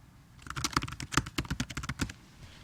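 Quick burst of typing on a computer keyboard, about a dozen sharp clicks in an uneven rhythm, close and clear with no talk.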